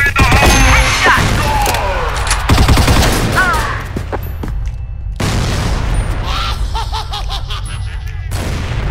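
A grenade blows up on the Pelourinho map of CrossFire in a loud, close boom. Rapid gunfire and further blasts crowd around it, and the din thins into quieter shots and a faint background hum.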